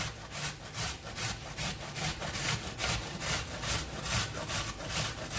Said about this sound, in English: If you want to, just grate the onion, and the carrot and the celery will do the same thing.